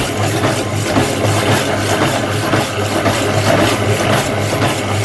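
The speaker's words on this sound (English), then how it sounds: "It's not a fast saw, but it is a brand new blade" Power hacksaw fitted with a brand new blade, mounted on a wheeled stand, cutting steadily with a continuous rasping, grinding noise over a low mechanical hum, close and loud with no speech.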